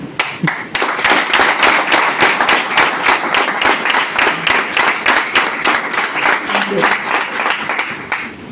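An audience claps together in a loud, fast, steady rhythm, like the hand-clapping heard at devotional bhajan singing, filling the room close by and keeping going for several seconds.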